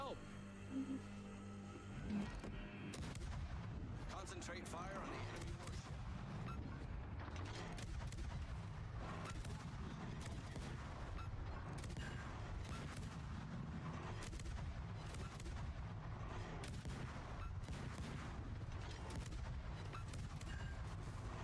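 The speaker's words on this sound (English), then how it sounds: "Took a long time to shoot his guns." Warship gun salvos in the World of Warships naval battle game, repeated booming reports and blasts over a constant dense rumble, with a person talking over the action.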